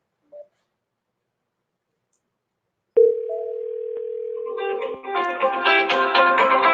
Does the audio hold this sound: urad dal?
no